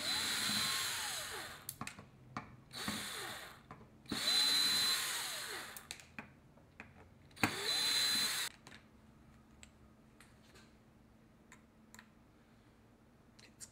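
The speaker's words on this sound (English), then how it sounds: "What we're going to do is we're going to start by taking these main screws out." A power drill whirs in three loud bursts of about one second each, backing the case screws out of a hard drive. Clicks and handling noises fill the gaps, and quieter tapping follows after the last burst.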